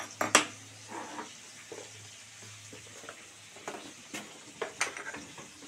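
Spice paste of cumin, coriander, garlic and ginger frying in a pan, a steady close sizzle with occasional spoon scrapes and clinks against the pan.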